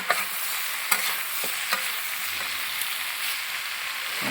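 Green peas get stirred into a curry masala in a pan, with a steady frying sizzle throughout and a few sharp spoon scrapes and taps breaking through at irregular intervals.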